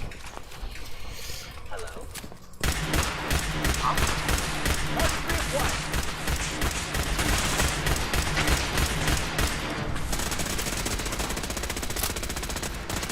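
Rapid sniper rifle fire in Fallout 4 on PC, a dense run of sharp repeated shots starting abruptly after a quieter stretch and continuing loudly, with a voice speaking over parts of it.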